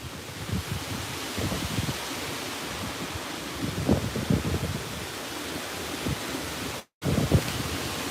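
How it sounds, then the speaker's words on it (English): Strong wind blowing through an outdoor graveyard, a continuous rushing roar with gusty surges and rustle, captured close to the microphone. "Really strong wind"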